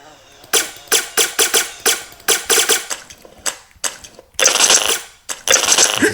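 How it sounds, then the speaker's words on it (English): Sound effects for a ground enemy in a video game: a fast series of sharp, crunchy clicks and thuds in uneven bursts, ending with longer, noisier crashes. The effects are close and fairly loud, with no talking over them. "It's the sound of the ground enemy."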